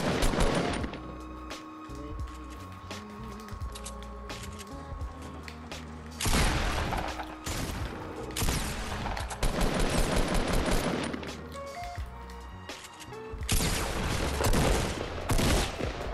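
Rapid gunfire in Fortnite Battle Royale, dense bursts of shots and mechanical clatter over a steady game background, loud and close with volleys repeating across the stretch.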